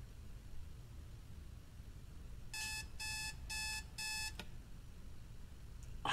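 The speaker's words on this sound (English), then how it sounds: "Set the alarm clock." Four evenly spaced electronic beeps from an alarm clock in a horror video game ring out over a low steady hiss, followed by a quiet click.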